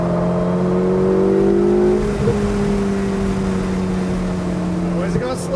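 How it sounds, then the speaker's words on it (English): A Ferrari 488 accelerates on the Pacific Raceways track in Kent, WA, with a loud, steady engine note that rises and holds close by. Voices talk over the engine throughout. "bring it all the way down and accelerate past that cone"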